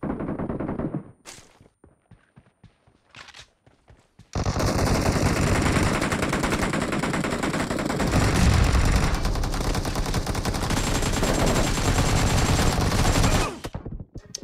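Gunfire in the mobile battle royale game BGMI: scattered single shots and short bursts, then a long, loud, continuous automatic-fire barrage lasting about nine seconds before cutting off.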